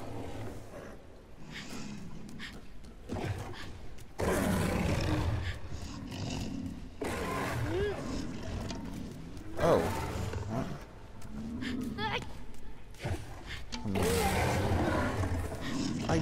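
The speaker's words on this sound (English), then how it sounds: "Stop growling." A huge creature in The Last Guardian video game growls and rumbles in deep, repeated snarling bursts. The sound is loud and close, rising and falling over several seconds with no speech.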